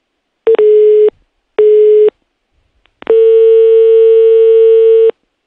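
Telephone line tone with clean, steady electronic beeps: two short pulses, then one long sustained tone, with nothing else audible.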